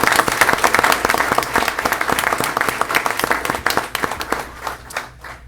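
An audience at a school board meeting claps steadily for a school band in a sustained round of applause that fades out at the end.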